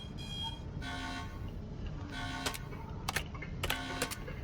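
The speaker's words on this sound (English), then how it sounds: "So here, the alarm, the boss is entering." An electronic alarm in the space shooter game Starbase sounds as a boss enters after an asteroid belt: a steady tonal blare followed by a series of sharp, bright beeping pulses, clear and moderately loud.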